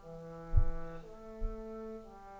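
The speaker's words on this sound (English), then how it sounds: "The trombone part before sounded like this." Trombone line from a composition played back as sustained brass tones, a few held notes moving stepwise, with a couple of low thumps under them; short and moderately quiet, no talking.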